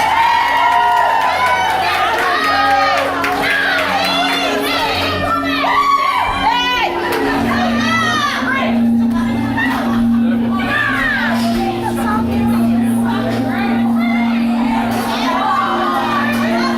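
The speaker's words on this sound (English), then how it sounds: "round of applause for Chris" An audience at a stage escape-act show cheers and shouts for a volunteer named Chris, lively crowd noise with whoops and voices mixed over a sustained musical backing, loud and close throughout.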